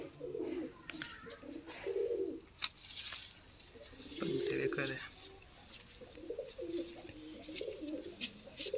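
Sialkoti pigeons coo in soft, repeated low burbling phrases, with someone speaking briefly between them.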